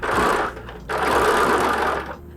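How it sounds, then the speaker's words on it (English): Sewing machine running a regular straight stitch at a 2.75 setting while embellishing a satchel bag, a steady close whir in two bursts separated by a short pause, with no talking. "I'm back at the machine now. I'm not going to do the triple stitch around the side, just going to do a regular straight stitch."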